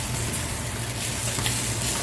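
Hash browns crisp in a hot pan, giving off a steady, close sizzle of frying fat that holds at an even level with no talking over it.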